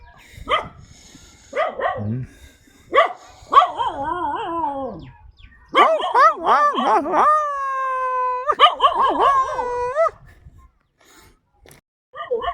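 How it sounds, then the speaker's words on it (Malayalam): Several dogs bark and howl in bursts, with drawn-out wavering howls in the middle, fairly close and loud, then fading to quiet. "പരിചയമില്ലാത്തവരെ കണ്ടാൽ ഇവിടുത്തെ പട്ടി അളിയന്മാരൊക്കെ ഭയങ്കര കൂവല."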